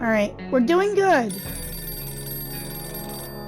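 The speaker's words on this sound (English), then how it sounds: "That's a phone ringing." A telephone rings in the video game 60 Seconds Reatomized, a repeating bright electronic ring coming in after a voice and continuing steadily to the end, fairly loud and close.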